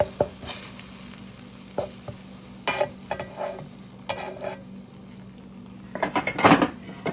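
Eggs cooking in an electric skillet at about 350 degrees, medium high heat, with scattered clinks and scrapes of a utensil against the pan and pot-like knocks over a low, steady sizzle, no talking.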